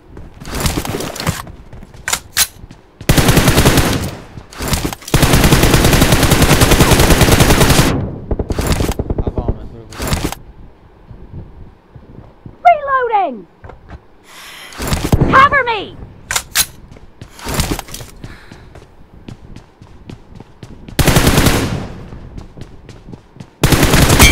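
Video game gunfire comes in loud rapid bursts of automatic fire and single shots, with gaps between them, alongside sporadic voices talking.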